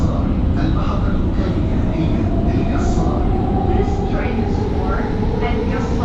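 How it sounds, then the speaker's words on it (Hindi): A Doha metro train rumbles steadily while riding, a constant low rolling drone with faint rattles throughout, with people talking over it. "और ये ट्रेन भी आ गई है, अब हम ट्रेन के अंदर जाते हैं।"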